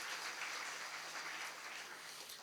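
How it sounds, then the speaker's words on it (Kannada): An audience at a spiritual discourse applauds, a faint, distant wash of many hands clapping that holds steady and tapers slightly at the end. "ಜೋರಾದ ಚಪ್ಪಾಳೆ ತಟ್ರಿ"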